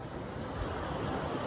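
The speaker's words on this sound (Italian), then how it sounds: "e ora questo è il mare" Sea surf rolling onto a beach at a surfcasting spot on a rising tide, a steady loud wash of breaking waves with some wind rumble, no voices.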